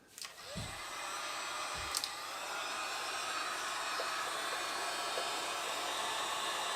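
Heat gun blowing on heat shrink tubing over a wire joint during a car head unit install, a steady loud hiss-roar that starts with a couple of clicks and runs without pause, close by.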